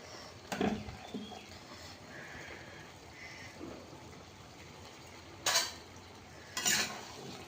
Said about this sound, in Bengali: এই যে হাত ধরে ভারী কড়াইটা, এতগুলো এইভাবে ধরে ধরে নাড়ানো যায় না